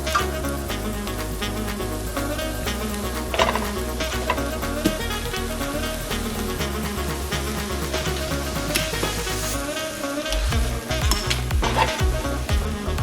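Minced beef fries in a pan for beef cutlets, giving a steady, dense sizzle with stirring and scraping throughout, loud and close with no talking.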